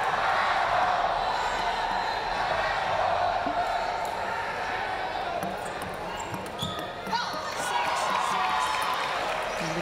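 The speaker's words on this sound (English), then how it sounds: "the crowd really getting involved here with the chant of China going up" Crowd at a women's team gold-medal table tennis match at the Rio 2016 Olympics chants for China, a sustained loud rhythmic roar with scattered whoops and claps.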